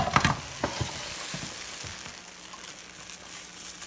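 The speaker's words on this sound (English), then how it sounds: "Sauteed spinach and onions." Spinach and onions sautéing in a pan, a soft continuous sizzle with a few scraping and rustling stirs near the start, close and fairly quiet, with no talk.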